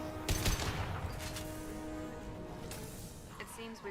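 Gunfire in the sci-fi shooter Mass Effect 2: several sharp bursts of shots crack in the opening half-second, then scattered hits follow over a steady game soundtrack, with voices talking throughout.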